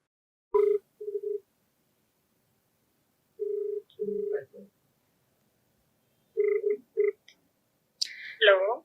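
A telephone call being dialed on a phone: short bursts of keypad tones in separate clusters, then ringing tones rising near the end, close and clear with quiet gaps between.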